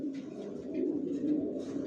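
Racing pigeons of long-bodied racer stock cooing in a low, soft, continuous murmur close by, with faint chirpy notes drifting above the steady coo and no voices.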